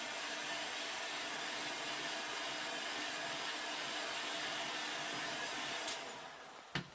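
Heat gun warming small bits of craft foam, a loud continuous rushing roar of blown air held steady for several seconds, then cutting off near the end with a couple of knocks.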